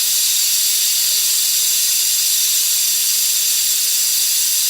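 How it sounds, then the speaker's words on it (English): Steam rushes loudly and steadily from the pressure-release valve of an Instant Pot, a constant close-up hiss that holds unchanged for the whole stretch with no talking. "This is going to release the pressure from my Instapot so I can take the lid off."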